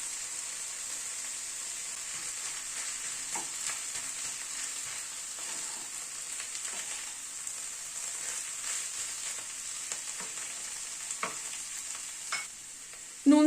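Chhana and hand-mashed boiled potato being stirred and turned in a pan, a steady soft scraping with faint sizzling close up, with no one talking.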